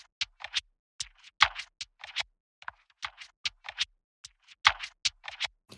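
A pitched-down hi-hat texture shaped with Shaperbox in an electronic chillhop beat, sounding as short, crisp, scratchy bursts in an irregular bouncing pattern separated by silence.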